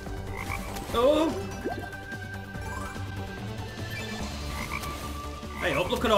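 Frogs croak repeatedly in the Fire Hopper slot game, bursts of warbling calls over a busy electronic music bed, loudest near the start and end, with no talk.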